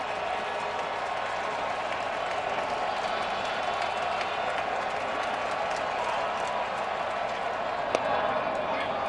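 Oakland A's home crowd at a 2013 ALDS Game 1 baseball game against the Detroit Tigers, a steady dense roar of cheering and clapping filling the stadium, with no distinct peaks.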